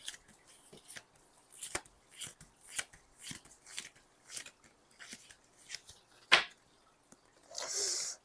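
Tarot cards shuffled and drawn for a reunion reading, a run of crisp, close riffles and slaps, each a short burst, ending in a longer rustle of cards.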